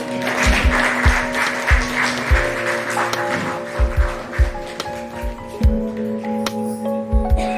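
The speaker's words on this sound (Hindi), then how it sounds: "कृपया जोरदार तालियां।" Applause at an Ayurveda Day ceremony in Prayagraj, a moderate, dense patter of clapping over a steady electrical hum, with scattered low thumps and handling knocks breaking through.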